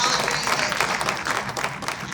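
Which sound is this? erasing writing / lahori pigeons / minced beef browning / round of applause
round of applause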